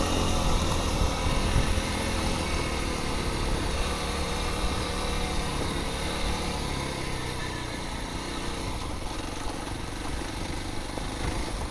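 A Kawasaki KLX300 motorcycle putters along a forest road at low speed, its engine a steady, close, rough drone with wind and ground rumble, and no talking.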